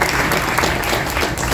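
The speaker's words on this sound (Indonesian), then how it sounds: "Tepuk tangan untuk Pak Imron." Sustained, loud applause fills a gathering at an alumni reunion of an Islamic boarding school in Java, a dense steady clatter of many hands from start to finish.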